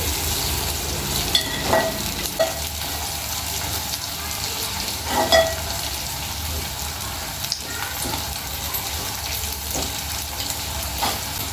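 Onions frying with ginger paste in a pan for chicken fry give a steady close sizzle, with a few scattered clinks and scrapes of stirring throughout.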